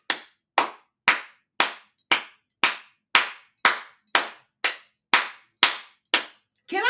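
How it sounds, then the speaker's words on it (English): Single pair of hands clapping on a podcast, about thirteen sharp, loud, close claps in a slow, even rhythm, with no talk over them. "Can I clap any louder than that?"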